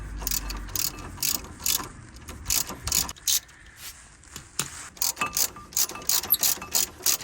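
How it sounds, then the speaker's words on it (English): A ratchet wrench loosening the brake caliper bracket bolts on a Nissan Micra K12, giving repeated bursts of quick, close metallic clicking separated by short pauses. "Go ahead and remove both of the 80mm bolts for the brake bracket"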